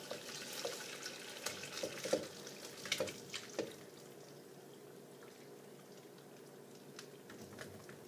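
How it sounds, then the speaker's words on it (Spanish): Water from boiled potatoes is poured off, splashing and trickling at moderate distance, busiest in the first few seconds and then thinning to a faint trickle with scattered drips. "Escurrimos el agua de las papas y hacemos un puré."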